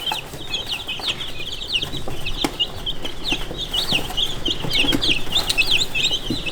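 Young backyard chicks being tamed with snacks give a continuous stream of close, high peeps and small clucks in quick, irregular bursts.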